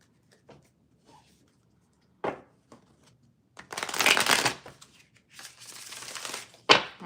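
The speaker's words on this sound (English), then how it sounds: "One more shuffle." Tarot cards being shuffled by hand, a few light taps and riffles building to two longer, close, rustling shuffles and a final sharp snap of the deck.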